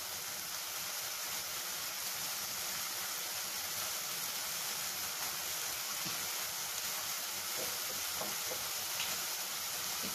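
A paste of poppy seeds, mustard and sesame with cumin and coriander powder fries in a pan, giving a steady, even hiss and sizzle with a few faint clicks, close and continuous.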